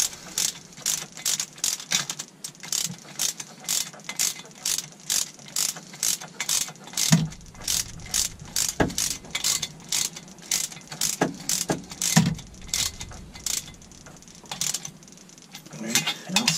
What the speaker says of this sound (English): So you'll want to use your torque wrench to set these to 45 foot-pounds.